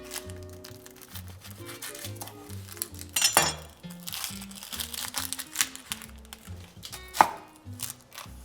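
A knife minces a shallot on a cutting board in quick, uneven runs of close, crisp chops, with a few louder knocks against the board and no voices.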